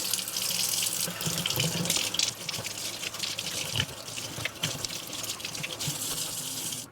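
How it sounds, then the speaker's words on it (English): Water pours steadily from a tap into a sink to wash a Eureka Blaze vacuum filter, a continuous splashing rush with no voices, lasting several seconds. "The way you do that is you turn on the water."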